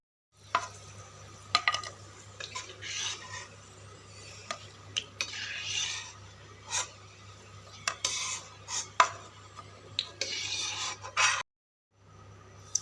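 Semolina roasting in ghee for suji halwa is stirred with a spoon in a pan, giving intermittent scraping strokes and clinks over a soft, constant sizzle that cuts off near the end.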